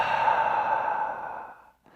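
A long, steady exhale out through the mouth during a yoga class, breathy and close, fading out after about a second and a half with a faint breath after it.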